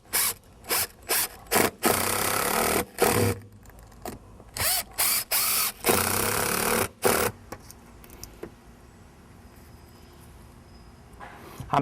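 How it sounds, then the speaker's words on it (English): A power driver runs screws into a wooden patio cover board in a series of short, loud, whirring bursts, some stuttering and some longer, followed by quieter handling noises. "Now I can set my board right up under here. Where I need to get it. And I'm going to run my screws in."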